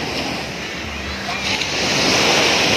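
Sea waves at a beach in La Union, a broad continuous wash of surf rising toward the end, with wind rumble on the microphone and a person talking over it.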